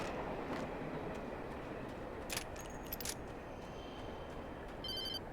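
Train in the video game Alan Wake, a low steady rumble of the passing train with a few brief metallic jangles and a thin ringing bell near the end, heard without talk.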